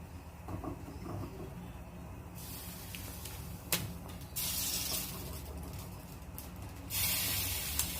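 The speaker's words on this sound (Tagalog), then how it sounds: "Lagay na natin yung ating slice na blue marlin." Blue marlin slices are dropped into a simmering pot of sinigang with okra and vegetables, giving a steady hiss and bubbling with brief bursts of louder sizzle and a faint knock, close to the pot.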